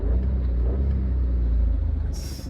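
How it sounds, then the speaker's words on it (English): VW Virtus 1.0 car pulling away from a standstill, a loud close engine drone rising under acceleration, with a brief hiss near the end. "Now, let me just launch the car."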